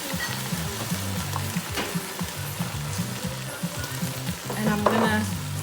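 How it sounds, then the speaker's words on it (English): Whole tomatoes with their sauce hitting a hot pot, a busy sizzle and crackle with stirring scrapes, close and moderately loud, swelling briefly near the end. "We're gonna go ahead and add our whole tomatoes with the sauce."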